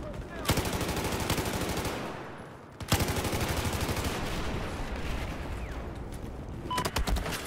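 Sustained gunfire from a Battlefield 4 multiplayer match, dense bursts of rapid shots that dip briefly near the middle, then resume steady and loud with a few sharper cracks near the end.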